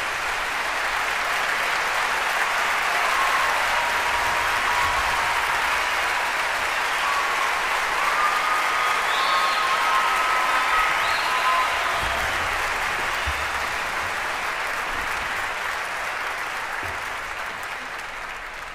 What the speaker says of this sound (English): give me applause